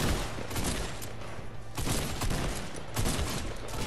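Gunfire in the Fortnite video game: rapid, dense bursts of shots that are dense and continuous, moderately quiet, with brief lulls between volleys.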